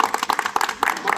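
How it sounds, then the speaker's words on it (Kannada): A short burst of applause at a doctor's birthday celebration and award function: quick, uneven hand claps from a small group, moderately loud and close, with no speech over it. "ಚಪ್ಪಾಳೆ ಬೇಕು ಇದಕ್ಕೆ"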